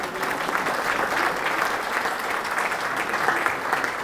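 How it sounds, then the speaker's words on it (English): An audience applauds steadily for a long-serving colleague of 30 years at a talk, a dense, continuous clapping that stays loud and even throughout with no voices rising above it. "I think she deserves a little round of applause"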